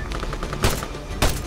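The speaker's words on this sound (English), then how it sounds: "so we open fire." Bursts of automatic gunfire crackle in the ARMA 3 military shooter during a firefight with FIA combatants, a steady rattle of shots broken by two louder, heavier blasts, with no talk.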